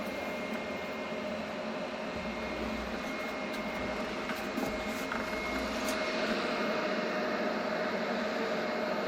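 Cooling fans of a Crafuel Alto 1200 portable power station blow in a steady broadband whoosh with a faint tonal whine, constant and fairly close throughout, with no talk.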